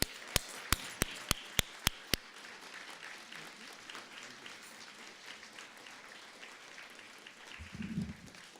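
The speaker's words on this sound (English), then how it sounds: "please rise and give him a rousing sound of applause, Mr. Jose Francisco Avila." Audience applause at an evening anniversary celebration in Brooklyn, starting with seven sharp, evenly spaced claps and then settling into a steady, full wash of clapping from a crowd that carries on alone to the end.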